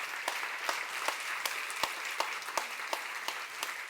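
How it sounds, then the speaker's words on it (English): Audience applause after a keynote at the opening of a safety conference, steady dense clapping at moderate distance with a few sharp individual claps standing out, no voices over it. "We'd like to give you another very big applause considering the time"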